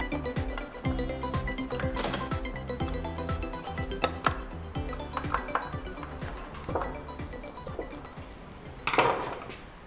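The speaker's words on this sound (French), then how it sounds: "Et on resserre les vis." Screws being tightened on an electric bike's rear wheel, a continuous run of metallic clinks, ratcheting clicks and tool taps close by, with a louder rattle of metal near the end.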